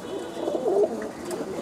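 Khulna chot pigeons coo in a loft, soft low throaty calls rising and falling close by over a faint background hum.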